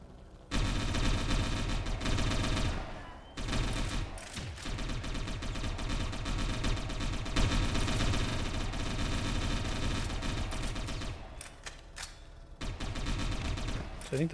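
Dense, sustained gunfire rattles through a firefight in the video game Satellite Reign, rapid bursts layered over a steady engine-like drone, with brief pauses before the shooting resumes.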